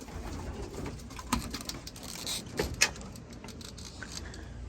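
Satinette pigeons coo softly in a loft amid other breeding birds, with scattered clicks and rustles. A louder knock or clatter sounds near the end of a quiet, roomy background.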